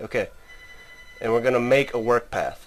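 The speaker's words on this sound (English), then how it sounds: "I apologize for the phone ringing." A telephone rings faintly in a room, a thin steady tone running beneath a voice as he talks.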